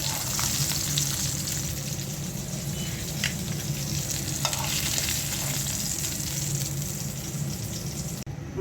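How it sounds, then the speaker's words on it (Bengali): Fish fries in hot oil with a continuous, fairly loud crackling sizzle and faint utensil clicks, cutting off abruptly at the end. "মাছটা হালকা ভেজে নিলাম,"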